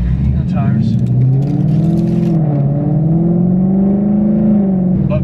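A Ford Mustang GT with an ESS G3X supercharger revs and spools up loudly, its pitch climbing and holding as it accelerates, with a supercharger whine over the deep exhaust drone.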